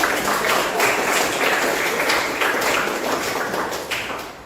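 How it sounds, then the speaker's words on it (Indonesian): Classroom applause from a group of participants, a steady, fairly loud patter of many hands clapping together for several seconds before tapering slightly at the end. "Sekali lagi kita tepuk tangan, boleh aplaus."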